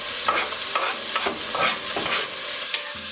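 Meat with a parsley and sage mixture being stirred in a hot frying pan for a medieval green broth, with steady sizzling and repeated scraping strokes of the spoon, close and fairly loud, no voices.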